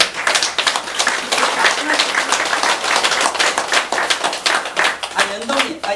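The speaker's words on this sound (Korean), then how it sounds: "박수!" A crowd of listeners at a Buddhist sutra lecture breaks into dense, steady clapping on cue, loud and close, sustained throughout with some voices faintly underneath.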